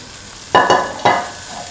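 Green peas stirred into a sizzling winter melon and tomato mixture in a pan, with two or three short scraping stirs over a soft steady fry, close and alone.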